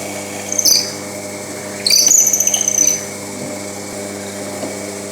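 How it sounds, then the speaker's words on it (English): Pillar drill fitted with a brad point bit boring 8mm clearance holes in a clamp block, with two short high-pitched whining bursts against a steady low motor hum, the second burst longer. "I'm going to drill all but the two 25mm blocks out with the clearance hole"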